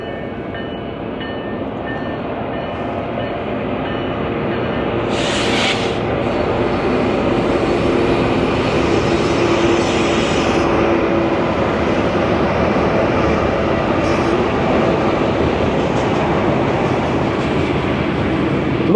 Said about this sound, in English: I'll just show you the train coming past.